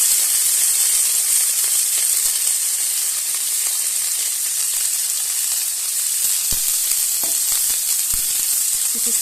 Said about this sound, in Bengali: মোমো বানাবার জন্য তেলটা দিয়ে দিয়েছি, দিয়ে দেবো পাতাকপি কুচি